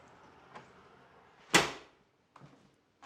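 A door opens with a single sharp latch clack and a short rush of noise, followed by faint thuds in an otherwise quiet room.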